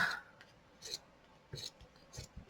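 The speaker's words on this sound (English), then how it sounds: "let me switch these scissors to my fabric scissors because it cuts like butter." Fabric scissors cut through material in a few quiet, crisp snips spaced about half a second apart, close by in an otherwise hushed room.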